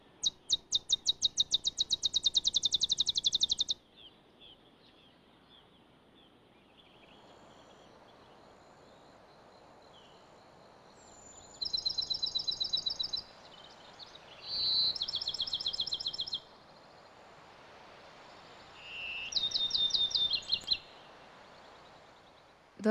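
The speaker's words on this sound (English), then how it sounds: "males emerge from the thicket to perform their loud, bouncing ball songs" A male Bachman's sparrow sings loud bouncing-ball songs, rapid trills that speed up, repeated in several bursts with pauses between, over a steady outdoor background.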